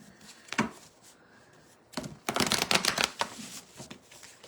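Tarot cards are shuffled close up: a quick riffle, a pause, then a longer flurry of rapid papery flicks and slaps, quiet overall.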